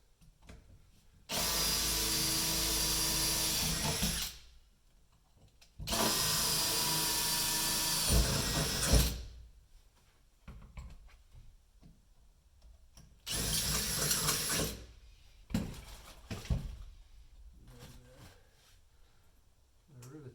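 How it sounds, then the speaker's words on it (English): A power drill bores holes into the dashboard of a GMC motorhome in three loud, sustained bursts of whining drilling, separated by quieter stretches with light handling noises. "Drill our other two holes."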